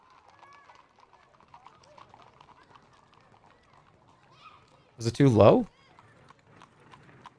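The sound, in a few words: horse hooves clip-clopping in the video game Sorcery!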